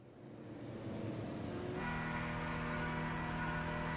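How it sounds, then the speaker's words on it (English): In a sim racing game, a race car engine swells in from a distance and holds a loud, steady high-pitched drone as it blitzes past a safety car, with no talking. "So there he goes, blitzing past Craig Schultz in the safety car."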